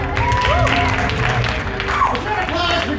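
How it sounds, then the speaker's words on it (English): An audience at a team poetry slam final at the Utah Arts Festival applauds and claps steadily, with crowd noise and a voice talking over the clapping. "let's hear an applause for yourself"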